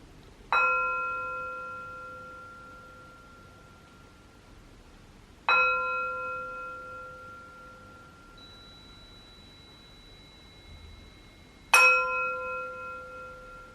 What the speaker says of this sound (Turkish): Üç çan sesi ve bu çan seslerinden sonra başlamış olacağım.